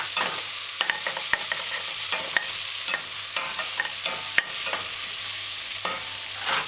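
Bone-in chicken pieces with a sprig of thyme stirred in a pot, a steady sizzle broken by repeated sharp scrapes and knocks of a spoon against the pot.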